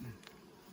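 Honeybees leaving their hive make a short, low, steady buzz close by, with a brief faint rise partway through and no voices.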